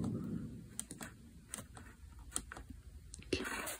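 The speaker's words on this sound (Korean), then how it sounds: "다시 셀렉트 버튼을 눌러서" Someone presses the select button on a Yamaha NMAX scooter dashboard, giving several short, faint, close clicks at irregular intervals over quiet background.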